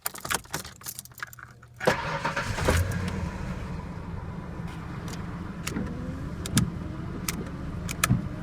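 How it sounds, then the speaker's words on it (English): Keys jangle up close, then a truck engine cranks and catches at about two seconds and settles into a steady idle, with a few light clicks and knocks over it. "go ahead and turn the truck on"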